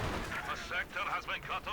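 Katyusha rocket artillery firing in Company of Heroes 2, a 1v1 match on the Langreskaya map, comes as a quick series of launch bursts and booms under a commentator's voice.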